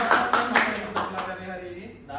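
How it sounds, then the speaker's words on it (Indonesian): Classroom applause for a student during a microteaching lesson: a short burst of rhythmic clapping, about five distinct claps that fade out, with faint room noise after. "Tepukan untuk Aman."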